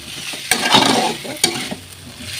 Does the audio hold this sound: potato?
yes